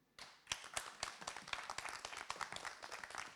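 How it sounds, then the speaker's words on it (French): Audience clapping in rhythm-free bursts after a slam poetry performance at a school show, sharp claps building quickly and sustaining, moderately near. "On applaudit très très fort Nikhil Lila"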